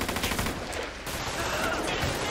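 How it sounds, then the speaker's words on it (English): Gunfire in the video game GTA 5 sounds in a dense, noisy burst of shots that fades briefly and then continues at a moderate level. "Are y'all shooting at me"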